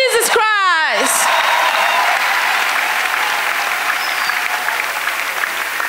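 A church congregation at a prayer gathering bursts into loud, sustained applause that holds a dense, even texture from start to finish, with a brief sung or shouted voice rising at the opening.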